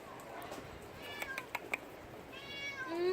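Cats in a cat village in Taiwan meow several times in short, faint calls, followed by a longer rising meow near the end, with quiet voices nearby.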